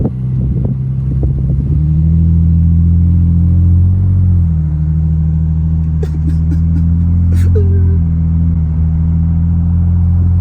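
Car driving away on a road after a Toyota Tacoma pickup is sold, heard as a steady low engine and road rumble from inside a moving vehicle that shifts slightly midway, loud and continuous with no talk.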